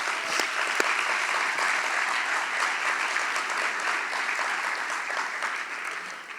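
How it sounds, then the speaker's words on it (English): Audience applause fills a high school commencement ceremony, a dense steady wash of many clapping hands that holds at even loudness throughout with no one speaking. "can we give your family and friends another round of applause?"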